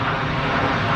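Airliner accelerating down the runway on takeoff at Geneva Airport, a loud, dense engine roar filling the whole moment without a break.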